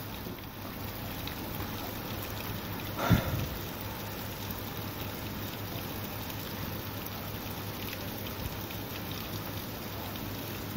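Steady rain falls during a thunderstorm, a constant soft wash of drops on surfaces with a brief louder burst around three seconds, otherwise even and unbroken.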